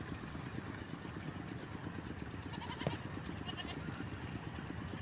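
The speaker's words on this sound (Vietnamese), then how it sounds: "Bầy dê của mình đó." A herd of goats bleating outdoors, a dense, continuous faint chorus of overlapping bleats with a low rumbling background throughout, no talk.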